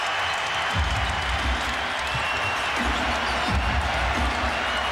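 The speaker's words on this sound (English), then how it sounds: "Get the crowd into a great frenzy here" An arena crowd at a 2001 NBA playoff game in Toronto roars and cheers steadily, a loud dense wash with faint ball bounces and an announcer talking over it.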